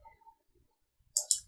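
A few computer mouse clicks, faint and brief, then a quick cluster of crisp clicks near the end, with near silence between them.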